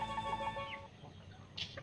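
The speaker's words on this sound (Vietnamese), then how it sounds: "đàn gà đang là rất là đói đấy chị nhỉ" Hungry farmyard chickens clucking and calling near and fairly loud, several short bursts over a low barnyard rumble, with no talk.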